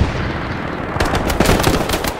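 Rapid bursts of Tommy gun fire from a World War II battle on Omaha Beach in the shooter Hell Let Loose, loud and dense, cracking repeatedly after a second of rumbling background noise.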